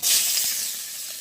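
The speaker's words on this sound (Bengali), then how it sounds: "দিয়ে দেবো থেতো করা রসুন" Crushed garlic sizzling as it drops into hot oil for village-style Bengali cooking, a loud steady hiss that starts abruptly and then eases to a softer, even sizzle.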